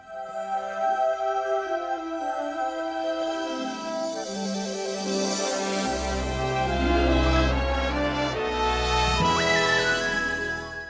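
A movie studio intro with a castle: a sweeping orchestral fanfare swells from soft strings into a full, bright brass climax, with a shimmering high sparkle near the end.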